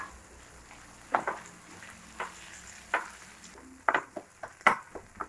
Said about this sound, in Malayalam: നമ്മൾ തക്കാളിയും കൂടെ ചേർത്ത് നന്നായിട്ടൊന്ന് വഴറ്റി കൊടുക്കാം.